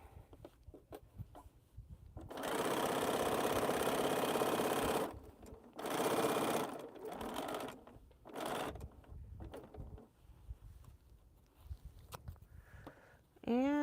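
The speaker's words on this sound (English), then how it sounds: "And don't forget to backstitch." Sewing machine backstitching to finish a quilt, stitching in several close bursts of varying length separated by short pauses, with faint voices in the quiet gaps.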